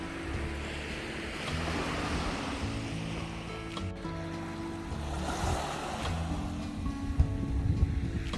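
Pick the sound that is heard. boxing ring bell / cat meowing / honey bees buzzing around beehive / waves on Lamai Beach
waves on Lamai Beach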